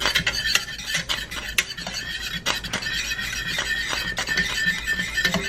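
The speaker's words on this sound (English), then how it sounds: "And then start whisking." Whisking vegan English muffin batter in a bowl, a steady scraping, clinking rhythm of a whisk against the bowl with small squeaky accents, continuous and fairly close, with no one talking.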